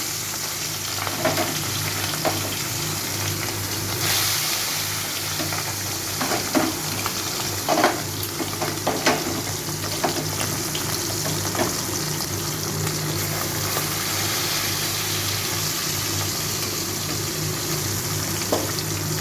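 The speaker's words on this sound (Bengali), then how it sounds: "এবারে এর মধ্যে মাছগুলোকে সব ভেজে নেব।" Tangra fish frying in hot oil, a continuous loud sizzle and crackle with occasional sharper pops and stirring scrapes throughout.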